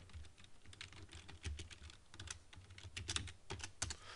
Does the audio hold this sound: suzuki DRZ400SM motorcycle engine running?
no